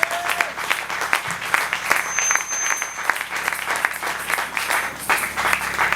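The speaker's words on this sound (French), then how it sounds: "Est-ce que tu peux acclamer d'abord Jésus?" A church congregation at a prophetic marathon worship service applauds and cheers for Jesus, producing a steady, dense roar of clapping throughout with scattered voices in the crowd.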